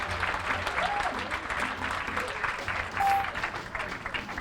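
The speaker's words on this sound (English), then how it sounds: "thunderous applause" A crowd at a stage magic performance claps in a dense, continuous wash of applause at a moderate level. Faint voices and brief tones sit beneath the clapping.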